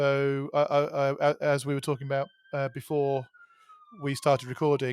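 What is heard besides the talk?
emergency vehicle sirens outside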